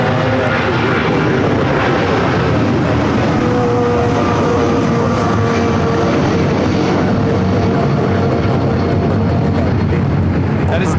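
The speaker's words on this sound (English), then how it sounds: "That is Delta Airlines 528 taking off to Atlanta on the 757-300." A Delta Airlines Boeing 757-300 takes off at LAX, a loud, continuous jet engine roar that stays steady and powerful throughout, filling the air close by.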